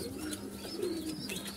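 Pet pigeons in a home loft coo softly and steadily, low rolling calls repeating close by over light background noise, with no talk.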